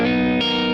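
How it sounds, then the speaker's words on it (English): A sustained electric guitar chord rings through the clean channel of a Friedman Runt 20 amp turned up into crunch, brief, loud and close with a rich, slightly distorted harmonic tone. "So if you go higher in the clean volume, you get more crunch"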